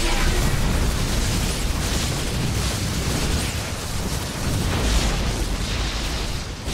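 A construct is destroyed in StarCraft II, in the mission The Infinite Cycle, with a sustained, loud roar of explosive blasts and rumbling that continues without pause.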